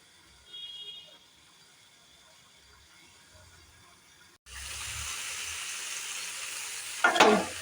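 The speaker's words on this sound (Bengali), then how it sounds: "একটু চাপা দিয়ে সবজিগুলো একটু ভেজে নেব।" Vegetables for a Bengali shukto fry in a pan, partly covered: after a quiet start, a steady, close hiss of sizzling oil sets in midway and continues, with a short clatter near the end.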